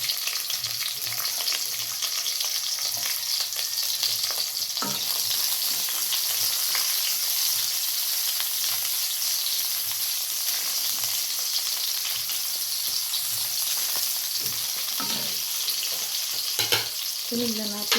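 Garlic browned first, then onion, sizzles steadily in a hot pan for a Filipino pork menudo, a continuous close frying hiss with occasional stirring clicks and scrapes throughout, no talking.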